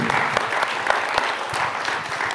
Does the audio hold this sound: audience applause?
yes